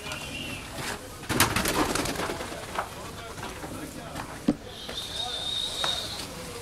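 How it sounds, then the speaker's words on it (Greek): Esovalta pigeons coo and flutter near an outdoor loft, soft repeated coos and wing claps over a steady background hiss, with a faint voice in the distance. "Έρχονται πολύ ωραία τα πουλιά"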